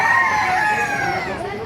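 A red rooster crows loudly and close at a chicken market in Baliuag, Bulacan, Philippines, its strained call drawn out over a busy background murmur of people.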